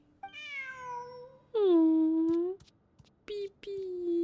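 Cat meowing in Genshin Impact, several drawn-out clear meows, the second long and loud, followed by two shorter ones, close with no talk.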